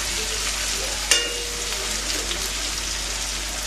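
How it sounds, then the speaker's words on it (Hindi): Tomatoes frying in a pan while leftover rice is made into fried rice, a soft, steady sizzle with a sharp clink partway through, faint and close with no voices. "अभी हम टमाटर को डालने जा रहे हैं। और टमाटर को हमें ज़्यादा नहीं पकाना है"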